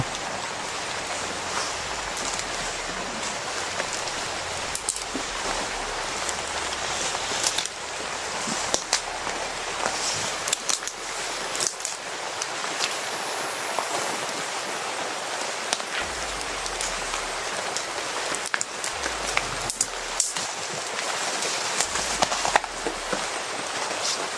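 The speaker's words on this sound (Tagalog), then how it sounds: "Lakas ng ulan mga tol." Heavy rain pours in a dense, steady hiss throughout, with scattered louder drops and patters on a surface and a faint low rumble underneath, and no one speaking.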